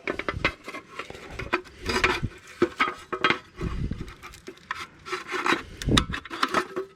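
A plastic mat is pulled and peeled off a rusty step bracket on a Jayco motorhome, giving close, irregular scraping and rubbing sounds in uneven bursts with no talk.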